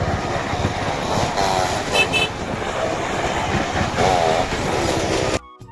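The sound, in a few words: toy train running and tooting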